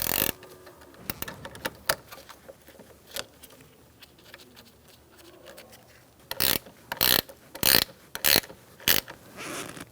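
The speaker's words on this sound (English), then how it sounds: "Put your negative battery terminal on, push down, and tighten it up." A hand ratchet tightens the negative battery terminal on a 2007-2017 Ford Expedition, heard as a quiet scatter of clicking strokes followed by a cluster of five or six louder, sharp ratcheting bursts near the end.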